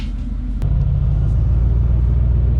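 A car interior during a drive to a storage unit: a loud, steady low engine and road rumble that holds continuously, with a brief click near the start.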